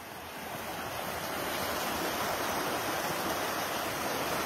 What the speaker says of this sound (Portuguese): Virou uma água corrente, né?